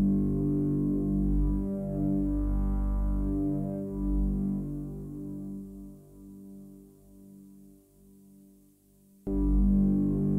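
A single low note from a Hydra synthesizer passes through Ocean Machine reverb on an X32R aux mixbus. It swells with a deep, sustained hum that decays slowly into a long tail, then a second note cuts in sharply near the end.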